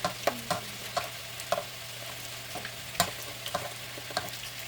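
Steady sizzling of food frying in oil, with sharp clinks and scrapes of a utensil stirring the pan at irregular intervals.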